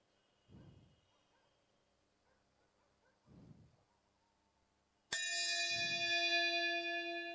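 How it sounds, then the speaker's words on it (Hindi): A bell rung during a morning prayer. After a few seconds of near quiet with soft low murmurs, a single sharp strike rings out loudly and sustains a long, bright, shimmering tone. "और घंटी बजेगी जब हम एक साथ ज्योति को आमंत्रित करेंगे"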